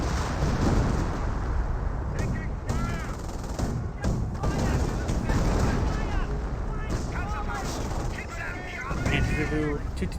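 Rifle and machine-gun fire crackles over grenadiers in Company of Heroes, with explosions mixed into a continuous wartime din while a commentator talks over the action.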